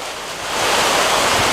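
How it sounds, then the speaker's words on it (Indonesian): Heavy rain beginning to fall outdoors during a fishing trip, a broad hiss of rain and wind that swells louder within the first second and then pours on steadily, with no talking. "mulai turun nih hujan besar"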